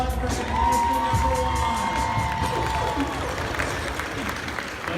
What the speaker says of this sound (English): Big round of applause for contestant number